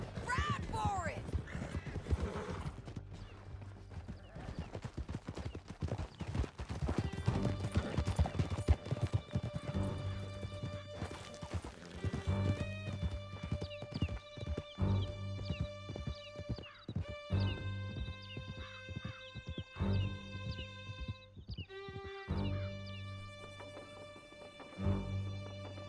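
Horses galloping in Red Dead Redemption 2 through a canyon escape, hooves clip-clopping in quick rhythm with occasional neighs, over game music and loud voices shouting.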